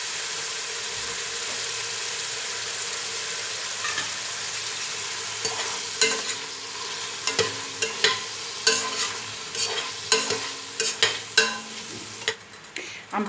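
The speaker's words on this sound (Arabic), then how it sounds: "حاترك اللحمة تتقلى شوي" Beef frying in a little oil and its own broth in a pan, the sizzle steady and close, with a spatula stirring and scraping in irregular knocks that grow sharper toward the end.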